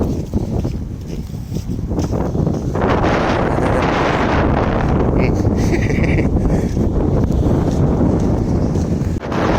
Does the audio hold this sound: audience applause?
no